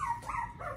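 Small puppies barking and yipping at a food bowl while the litter eats, a few short close barks with faint whimpers in between.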